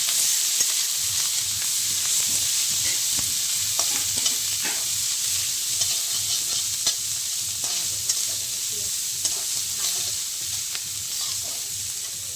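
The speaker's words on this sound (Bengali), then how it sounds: "এরপর শুটকি মাছগুলোকে আমি সিদ্ধ করে নিয়েছিলাম, ওইটা দিয়ে একটু নেড়ে নিচ্ছি।" Boiled dried fish being stirred in a pan of hot oil tempered with cumin, bay leaf and dried chilli, a steady bright sizzle with rhythmic scraping strokes of the spoon running throughout, close and continuous.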